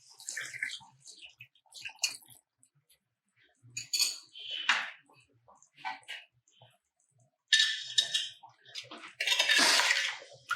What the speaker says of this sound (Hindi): अब इसमें गलाने के लिए हम इसमें ये पानी डाल रहे हैं।